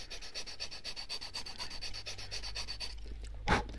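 A sanding stick rubs back and forth on a plastic model tank hull in quick, regular strokes, close and faint, ending with a brief louder knock.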